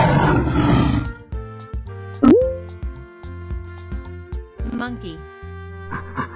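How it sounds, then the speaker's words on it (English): A lion roars with a deep, rough burst at the start, followed by cheerful background music with bright tones and a swooping effect, while a voice speaks briefly. "Lion."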